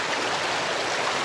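A water stream flowing through the Wadi Al-Karak valley gives a steady, dense rushing and splashing wash, loud and close, continuous throughout with no voices.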